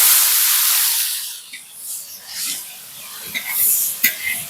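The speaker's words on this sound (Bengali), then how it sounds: "এবার দিয়ে দেবো কেটে রাখা পেঁয়াজটা" Chopped onion hits hot oil with dry red chilli and bay leaf tempering, giving a loud bright hiss that swells at first, then settles into a steadier sizzle with brief crackles, close and alone.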